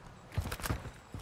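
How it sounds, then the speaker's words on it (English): Clicks and clacks of a weapon magazine being swapped during a Modern Warfare 2 multiplayer match, several short sharp mechanical knocks in an uneven rhythm, close and moderately loud, with no talk. "Changing mags."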